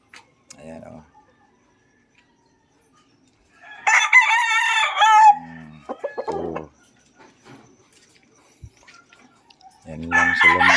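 Gray hatch gamefowl roosters, around eight months old, give a loud, close crow mid-clip and another at the end, with short clucks between, while someone talks nearby.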